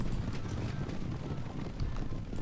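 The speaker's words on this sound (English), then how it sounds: "galloping horses. None are faster." Galloping horses in a Stronghold 2 multiplayer strategy game: a steady, dense rumble of many hooves with faint clip-clop accents, continuous and fairly loud throughout the brief moment.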